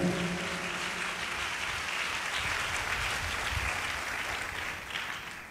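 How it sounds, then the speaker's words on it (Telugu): A church congregation claps loudly together in worship, a dense, steady wash of hand claps filling the whole stretch with no speech on top. "చప్పట్లు కొట్టి దేవుడు మయంపరుద్దాం గట్టిగా"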